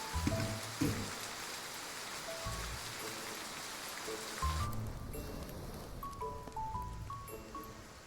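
Steady rain falls in the Love and Deepspace video game, a broad even hiss with scattered drop sounds, alongside soft game music tones and a few thumps.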